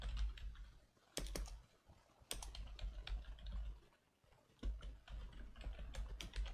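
Quiet bursts of computer keyboard typing, short rapid runs of key clicks separated by brief pauses, close and alone with no voices.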